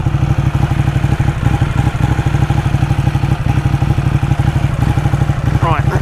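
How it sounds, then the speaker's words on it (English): A sports motorcycle engine idles lumpily, nearby and loud, its uneven low exhaust pulses thumping in a steady, slightly irregular beat throughout. "Now idling, it's a little bit lumpy."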